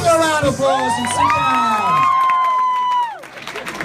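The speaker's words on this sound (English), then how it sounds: "All right, give a round of applause and sit" Crowd at a high school grad night hypnotist show cheering and shouting loudly, with whoops and high excited voices rising and holding for several seconds, continuous and close.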